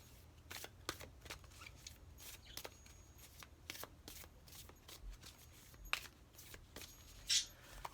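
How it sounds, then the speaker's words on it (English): A deck of oracle cards is shuffled by hand in a quiet room, giving a string of soft, quick riffling bursts at an uneven rhythm, close by, with a slightly louder flick near the end. "I'm just going to give them a shuffle this way, putting the energy in the cards"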